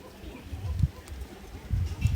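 Imported Indian Madrasi pigeons coo close by in low, soft throaty bursts, a few separate calls over a quiet background.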